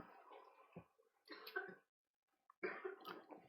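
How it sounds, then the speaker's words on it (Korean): A person coughs in several short, rough bursts, separated by a pause of silence, heard faintly in a quiet room. "기침이 아주 좀 심한 것 같은데"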